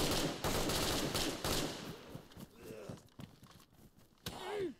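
Video game gunfire cracks out in rapid bursts of close shots at first, then thins into scattered single shots and thuds over a noisy background, ending with a rising whoosh.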